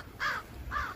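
Two loud, harsh crow caws near their nest outdoors, evenly spaced and close, with no voices.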